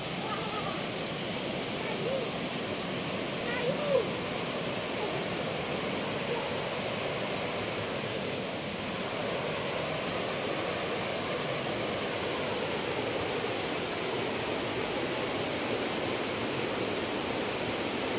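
Water rushes in a steady, even roar, like a flowing river heard close by, continuous and unchanging throughout.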